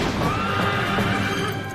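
A horse gives one long, loud neigh in a Toyota advertisement, with the whinny running right through and set against background sound.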